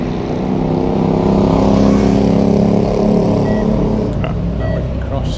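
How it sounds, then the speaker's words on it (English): Number 1 city bus arriving on a street in Palma, a steady loud engine rumble with low harmonic drone rising slightly as it draws near, over busy street noise with people talking nearby. "It's the number 1 bus coming in."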